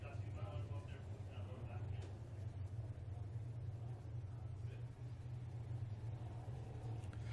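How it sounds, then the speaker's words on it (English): GMC crate sprint cars race at Ohsweken Speedway, a dirt track, as a steady, distant low engine rumble under a commentator's talking. "Almost to the halfway point in this crate sprint car feature event."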